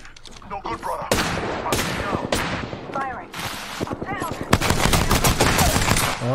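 Gunfire rings out in Resident Evil 2, with loud bursts of rapid shots and single cracks repeating over several seconds amid game effects, while a player talks over the action.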